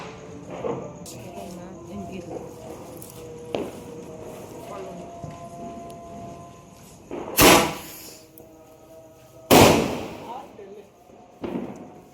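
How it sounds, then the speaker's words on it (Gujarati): Two sharp, loud firecracker bangs burst a couple of seconds apart at New Year, with a fainter pop near the end, amid background chatter and rustling. "મારા ભાઈએ ફટાકડો ફોડી નાખ્યા"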